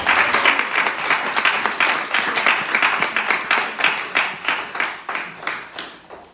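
A church congregation claps and applauds loudly in praise of the Lord, a dense, sustained burst of many hands with rhythmic pulses that tapers slightly toward the end, with no voices over it.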